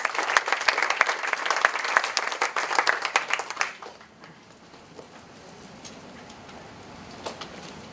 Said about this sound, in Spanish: Un aplauso para Gonzalo, por favor.